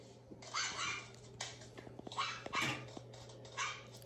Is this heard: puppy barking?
yes